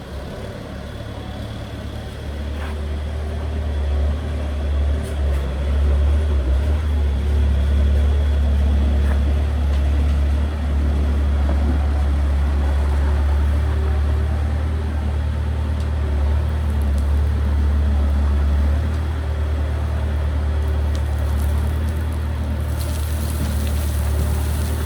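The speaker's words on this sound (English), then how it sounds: "not does he only plant palm trees, he can drive a bobcat. Slowly, of course." A Bobcat skid-steer loader drives slowly while a large Sonoran blue fan palm is transplanted, giving a steady, loud, low engine drone that holds evenly for the whole stretch with no voices.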